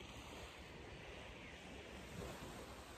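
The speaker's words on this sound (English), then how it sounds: "the sound of the sea" Sea waves wash steadily against the shore of a coastal county, a continuous broadband roar of surf with wind noise buffeting the microphone, close and fairly loud throughout.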